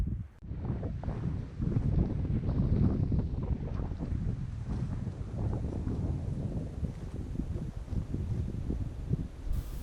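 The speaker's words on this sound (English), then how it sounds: "But going back up in there, and it is windy. It's brutal." Strong wind buffets the microphone outdoors on a whitetail deer hunt in Colorado, a constant loud rumbling roar with gusty surges and no talking.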